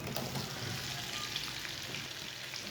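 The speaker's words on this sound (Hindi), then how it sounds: "नींबुओं को 2 मिनट के लिए रोस्ट कर लेंगे मसालों के साथ में ही" Cut lemons roast with spices in a hot pan for lemon pickle, giving a faint, steady sizzle and crackle with soft stirring, no talking.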